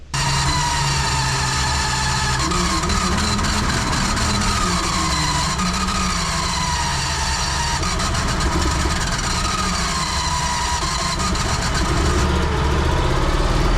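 Cushman Trackster small engine turning over on starting fluid and catching, then running with a rough, wavering drone that rises and falls, loud and close, with no talk.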